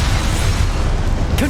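A Confringo blasting spell explodes in Hogwarts Legacy, a dense loud roaring blast filling the whole short moment, with a brief bright flare near the end.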